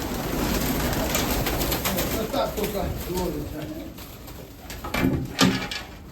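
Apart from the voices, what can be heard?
crested Mykolaiv pigeons cooing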